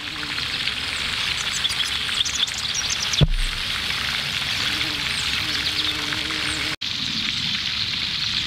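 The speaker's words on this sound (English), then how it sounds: "let's go take a look at some of our bird feeders we have right here too" Birds chirp and call around garden bird feeders by a patio with flowers, small tweets scattered steadily through a constant outdoor hiss, with a brief thump partway through.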